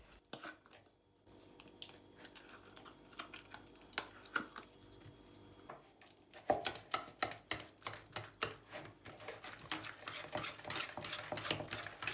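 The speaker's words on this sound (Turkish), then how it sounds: "Krema için ilk olarak labne peynirini ve şekeri güzelce çırpalım." Labneh cheese and sugar whisked together in a bowl for a lemon cheesecake cream, a quiet start building into a fast, steady run of close clicking whisk strokes against the bowl, with no talk.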